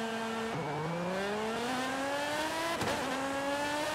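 Essenza SC-V12 engine in Forza Horizon on the Horizon Mexico circuit, a smooth high-revving note that climbs steadily, with two quick gear changes dipping the pitch before it rises again. Fairly quiet, with no talking.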